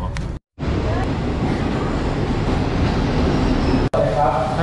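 A passenger train in Thailand rumbles steadily on its run, a loud, continuous roar of wheels and wind with a couple of brief dropouts, with no clear talk over it.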